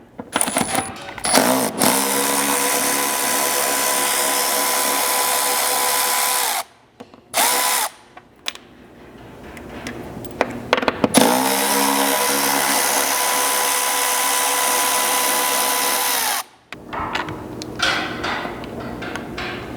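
Power tool, likely an impact driver, runs a 10mm socket to remove the fasteners on a center roof rack mounting bracket of a Lexus GX or Land Cruiser 250, in two long steady runs with short clicks and rattles between.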